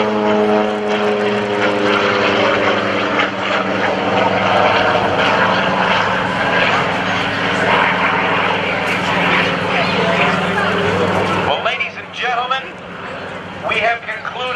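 Loud, steady drone of WWII US Navy propeller warplanes, a Hellcat and a Helldiver, passing overhead at an airshow, the engine roar sustained for about twelve seconds before cutting off abruptly into crowd noise.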